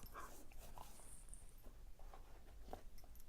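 Dog whining and whimpering with small yips, eager for a game of fetch, fairly close over a steady low background hum; no speech.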